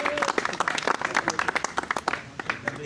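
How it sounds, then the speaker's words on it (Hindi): Guests at a home gathering celebrating a boy's matriculation applaud a newly arrived visitor, producing dense, lively clapping close by with some voices mixed in. "तालियां जी"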